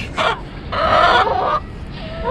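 Backyard chickens in a neighborhood yard clucking and squawking in several loud, close bursts with short pauses between them.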